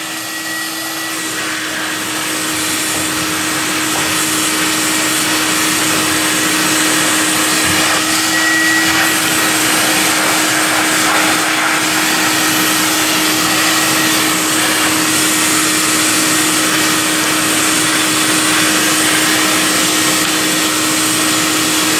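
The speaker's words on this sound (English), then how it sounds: "we're going to continue our dry cleaning system using our vacuum and a brush as necessary" A vacuum cleaner dry-cleans a bare wood key bed during smoke damage restoration, droning loudly and steadily with a constant whine that holds throughout, without voices.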